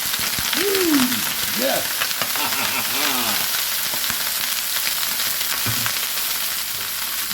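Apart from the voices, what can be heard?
broccoli frying in hot oil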